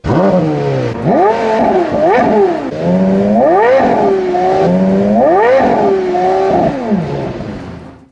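The 5.7-litre V10 engine of a Porsche Carrera GT revs loudly and close by, its pitch climbing and falling through several rhythmic throttle blips with a smooth, high-pitched wail.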